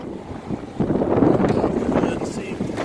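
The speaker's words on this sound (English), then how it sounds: "Oh, it's so damn windy up here." Strong wind roars steadily across the microphone outdoors on a windy height beside a 1997 Chevrolet Silverado, a continuous low rumble that thickens after the first second, with faint voice underneath.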